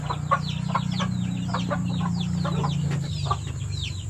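Chickens and roosters cluck in a rural farmyard in Bani, Pangasinan, Philippines, with a run of short, repeated calls in an irregular rhythm, fairly close, over a steady low hum.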